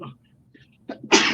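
A single loud, close sneeze bursts out at the end after a short spoken word and some faint breathy sounds.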